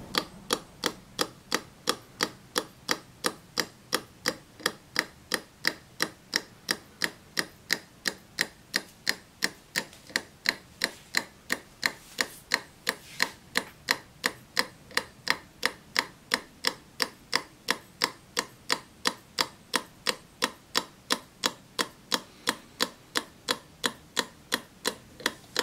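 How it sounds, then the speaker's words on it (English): A homemade tourbillon clock mechanism ticks close and steadily at about two beats per second, each tick a crisp mechanical click, with the rhythm holding almost evenly throughout. "There's a slight delay in the ticking"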